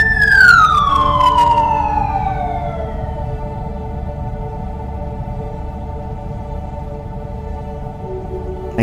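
An ambulance siren sounds loud and close, its wailing tone sweeping downward and fading into a steady engine drone and a low hum that carries on for several seconds.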